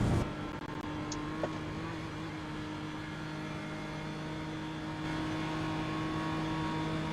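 Race car engine in the iRacing sim game drones at a steady pitch for the whole stretch, a continuous in-game motor hum with little change in revs and no talking over it.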